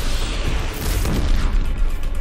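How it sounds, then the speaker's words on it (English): A loud explosion in Horizon Zero Dawn, a dense booming burst that fills the whole short moment, rumbling and crackling with no voice over it. "that was a good explosion"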